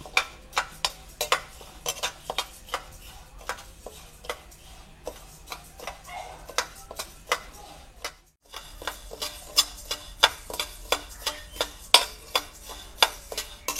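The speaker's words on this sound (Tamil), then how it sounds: "நல்லா அரிசி நல்லா வறுத்தாச்சு" Dry rice grains stirred and scraped in a pan, a steady run of short, sharp clicks and rasps recurring every half second or so, close by and alone, with a brief pause midway.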